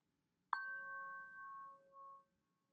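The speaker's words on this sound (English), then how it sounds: "I'll also be playing a chime that sounds like this." A single chime rings as the cue in a progressive muscle relaxation exercise, a clean struck tone that sustains and slowly decays for about two seconds in an otherwise quiet setting.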